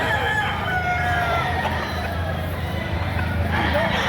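Young stag gamecock crowing amid a busy rooster market, other fowl clucking and crowing around it over constant crowd babble and nearby talk.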